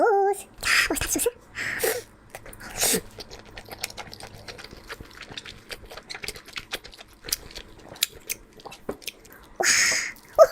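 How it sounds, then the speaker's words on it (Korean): Food dipped in mustard sauce being bitten and chewed close to the microphone, with soft wet crunches and squelches between a few louder bites and breaths. "요거는 이번에 소스 찍어 먹어볼게요. 머스타드 소스."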